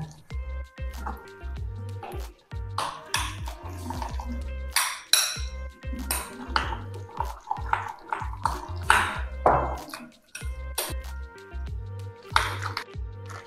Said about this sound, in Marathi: आता हे सगळं एकसारखं हलवून घ्यायचं आहे